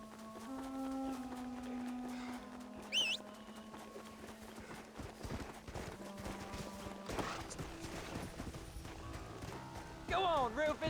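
Horse hooves clip-clopping in the video game Red Dead Redemption, a soft steady patter under game music and someone speaking, with brief chirping effects.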